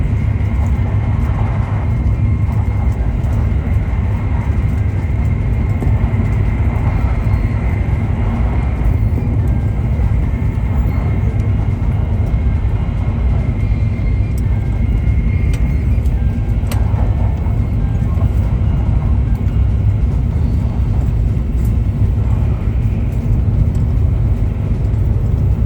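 A Japanese bullet train travelling at speed makes a steady, loud, continuous rumble of rolling and rushing air, with no break across the whole stretch and a few faint higher whines.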